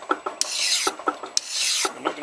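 A hand metal file rasps over a friction clasp knife blade in quick back-and-forth strokes, each one a close, gritty scrape, with about four strokes in total.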